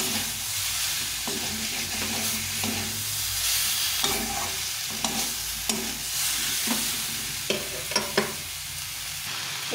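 Fried cauliflower florets cook down with spices in a pan, a steady close sizzle broken by repeated scraping stirs and a few sharp clinks of the spoon, with no talking.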